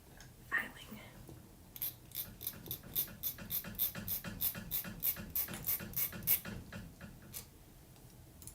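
A hand file scrapes across a small metal jewelry piece in a quick run of short, rhythmic strokes, close and fairly quiet.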